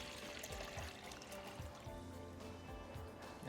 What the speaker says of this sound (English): First thing I'm going to do is fill my water pitcher.